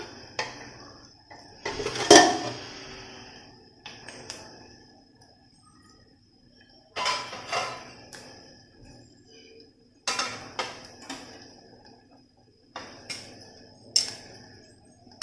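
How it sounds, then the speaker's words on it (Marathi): Several separate metallic clinks and clatters of a dal container being taken out of a pressure cooker, spaced out with quiet pauses between, close by. "तोपर्यंत मी कुकरमधली डाळीचा डबा काढून घेते बाहेर"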